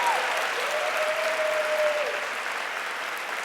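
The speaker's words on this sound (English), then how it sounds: "Let's give her another round of applause." Conference audience applause at a social work event in New York City, a steady, moderately loud wash of clapping from a large room that fades slightly toward the end, with a faint tone gliding over it.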